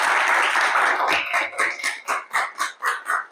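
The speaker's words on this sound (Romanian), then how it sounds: "Aplauze!" Students in a classroom break into applause during a school quiz game, a broad wash of clapping that settles into a steady rhythmic group clap of about eight beats.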